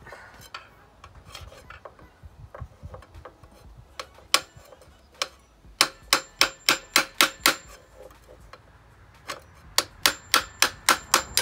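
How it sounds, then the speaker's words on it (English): Hammer blows on a flathead screwdriver set against the edge of a fan clutch to knock it loose: a run of sharp metallic strikes, first scattered, then quick bursts of five or six close, loud hits with short pauses between. "I'm gonna use my flathead and I'm gonna use a hammer"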